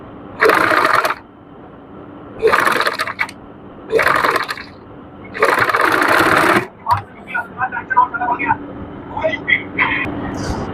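A sewing machine stitches ribbons onto trousers in four loud, whirring bursts of about a second each, separated by short pauses, followed by softer clicks and handling sounds close by.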